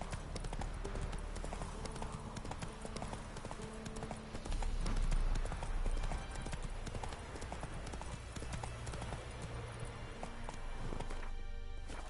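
Horse hooves clip-clop steadily in Witcher 3 as the horse trots along, a continuous rhythmic clatter mixed with in-game music and ambience throughout.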